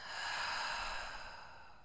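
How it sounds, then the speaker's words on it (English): A long, deep exhale through an open mouth during a yoga cool-down, breathy and soft, swelling then slowly tapering off, close and alone. "So one more breath in through the nose, nice and deep. Open mouth, exhale, release it fully out."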